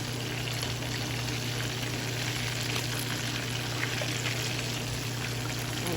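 Tilapia fillets frying slowly in a pan, a steady, even crackle and sizzle of hot oil that holds at the same level throughout, with no talking.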